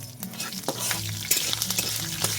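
Curry leaves and mustard seeds sizzle in hot oil for tempering while a Bengali chiẓe pulao dish is prepared; the crackling frying hiss stays steady and close throughout, with sharp pops and spatters, and no talking.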